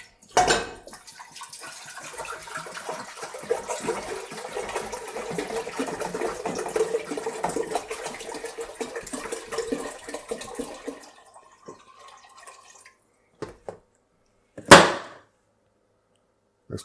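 A gallon of filtered water pours steadily into a cooking pot for about ten seconds, a full splashing rush that tapers off, followed by a couple of brief clunks and one sharp knock near the end.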